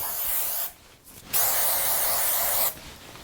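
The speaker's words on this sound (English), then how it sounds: "Now when I use hairspray, I don't put it up here because I'm afraid it will flatten it." Two loud bursts of aerosol hairspray hiss close up, a short spray followed by a pause and a longer spray.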